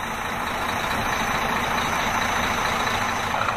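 2008 Volvo VNM64200 flatbed truck with a Volvo D13 engine idling, a steady unbroken diesel rumble with a faint high whine over it, heard close and without voices for a few seconds.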